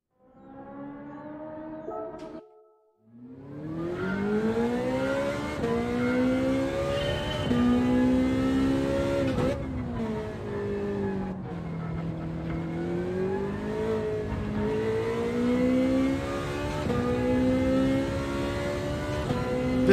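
A Ferrari Gr.4 race car engine in Gran Turismo 7 revs up after a brief gearshift pause, then drones loud and steady, pitch rising and falling through gears and corners over a long stretch with no talk.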